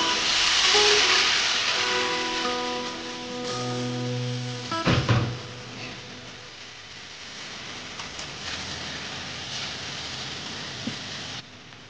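Cornflour and water mixture poured into chicken 65 sizzling in a pan, giving a loud burst of steamy hiss and crackle that fades into a steady, softer sizzle with a few faint knocks, up close and without talk.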